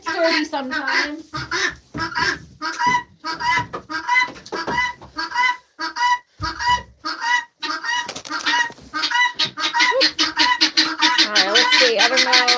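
Loud pet birds squawking, clucking and honking near the microphone in an indoor enclosure being cleaned, dense bursts of calls running throughout while a person talks over them.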